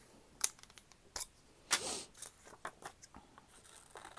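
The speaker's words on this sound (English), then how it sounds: "Why I chose the biggest scissors I have." Large scissors cut through paper for a craft project, giving a series of close, uneven snips and rustles with short pauses between them, and no talking.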